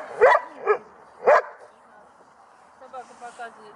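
A giant schnauzer barks at a working-dog protection trial: three loud, close, deep barks in the first half, then quieter yips and a voice over the announcement toward the end.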